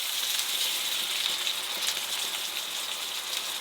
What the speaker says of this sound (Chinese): 等听到饺子底部开始滋滋作响的时候，就在锅里加入一些水